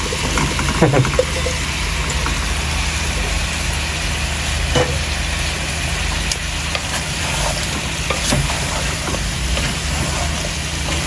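Bottle gourd and shrimp curry stirred in a pan, with a steady sizzle under scraping spoon strokes and occasional clinks, all over a constant low background hum; no speech.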